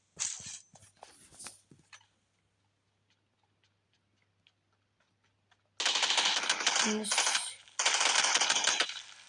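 Automatic gunfire in a shooter video game with M4 and M24 weapons, a short burst, then near silence with faint ticks, then two long sustained bursts of rapid loud shots.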